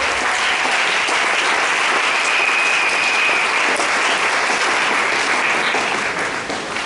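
A church congregation applauds and cheers for God in a sustained, loud wash of clapping from a large crowd, holding steady for several seconds before easing slightly at the end.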